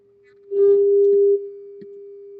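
A single pure steady sine wave test tone from a speaker, humming throughout and swelling louder for about a second in the middle before dropping back.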